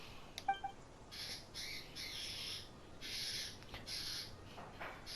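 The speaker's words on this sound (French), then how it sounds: "Vous faites fuir les pigeons?" Pigeons taking off in the Genshin Impact video game, with a few short chirps near the start and then repeated bursts of fluttering wing flaps, clear and close against a quiet background.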